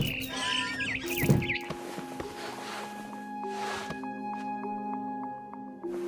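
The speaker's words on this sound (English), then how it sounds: "Then I heard chirping outside my window. It was a barn swallow going back to her nest." Barn swallow chirping in the What Remains of Edith Finch video game, quick high twittering calls near the start over soft rustling, followed by a sustained tonal ambient drone.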